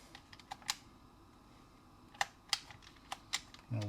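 Several sharp, separate key presses on the keyboard of a Sirius ZX Spectrum clone running a Didaktik Skalica ROM. The clicks come at an irregular pace over a low, steady hum.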